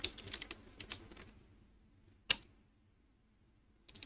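Quick clicks on a computer keyboard come in a short burst, then a lone keystroke and a few more taps, close and fairly quiet with no talking.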